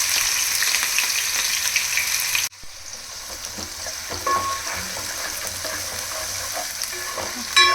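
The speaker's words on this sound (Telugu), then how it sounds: "ఆనియన్స్ కొంచెం గోల్డెన్ బ్రౌన్ కలర్ వరకు ఫ్రై అవ్వాలి." Onions frying in hot oil for a fish pulusu, a steady loud sizzle with stirring scrapes throughout, a brief dip partway, no voices.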